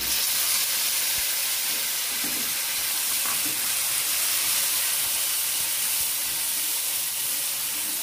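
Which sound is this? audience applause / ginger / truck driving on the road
ginger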